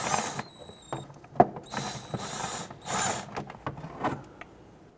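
Ratcheting and mechanical clicks from 10mm bolts being loosened and removed on the fender inner liner of a 1992-1996 Toyota Camry 2.2L L4, a few short bursts with brief pauses between them, close up.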